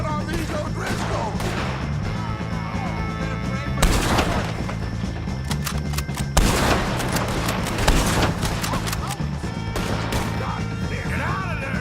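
Gunfire in Red Dead Redemption 2 during a shootout with O'Driscoll gang members, sharp repeated rifle and pistol cracks in irregular bursts, several loud close shots among scattered distant ones, mixed with game music.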